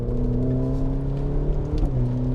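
A Maserati Grecale Modena engine revs after a pull on the shift paddle, giving a loud, close, sustained tonal drone that rises slightly and holds steady.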